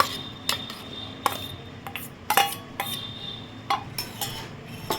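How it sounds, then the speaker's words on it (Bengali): Ripe mango pieces tipped from a bowl into a mixer jar for a mango cake, heard as a series of sharp clinks and knocks of bowl and spoon against the jar over a soft, steady kitchen background. "একটা মিক্সারের মধ্যে আমি আমগুলো ঢেলে নেব।"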